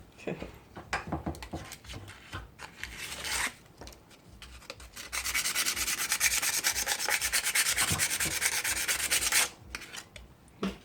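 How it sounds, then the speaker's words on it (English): Sandpaper rubbed over the rusty sides of parts from a Honda ATC starter motor, first in short scratchy strokes, then a long continuous rapid rasping burst, close and fairly loud. "can you just give them a quick sand down to get that crap off the rust off the sides?"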